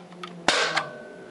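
A Nerf gun fires a dart through a smoothbore barrel, giving one sharp, close pop with a short airy tail, preceded by faint clicks.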